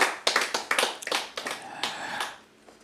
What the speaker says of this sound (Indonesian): tepuk tangan buat pengajaran ini